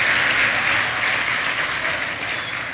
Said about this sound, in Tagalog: Isa pang malakas na palakpak sa ating Diyos na buhay.